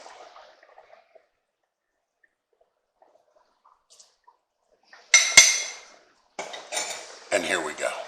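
Braised beef and broth go onto a plate beside mashed potatoes. A quiet lull gives way to close, clattering scrapes of a utensil on dishware, followed by wet ladling and dripping sounds.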